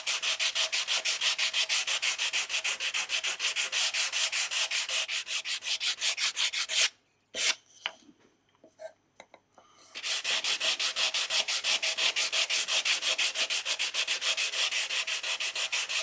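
A small wooden box with compound-angle dovetail joints being hand sanded: steady, close, rapid back-and-forth rubbing strokes that stop briefly for a few seconds of near silence with scattered knocks, then resume just as evenly.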